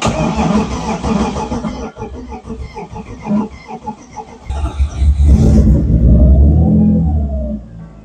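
A BMW E30 Touring engine, running on ethanol in very cold weather, cranks and starts, then revs loudly up and down close by, with no talking.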